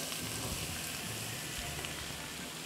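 Five onions sizzle in butter and olive oil in a frying pan, a steady, dense crackle close by with no break.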